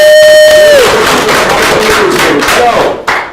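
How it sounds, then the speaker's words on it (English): A loud crowd cheering and whooping for bartenders at a tech meetup bar, one held shout dropping off early, then a noisy burst of cheers and claps that tapers near the end. "Give them a round of applause."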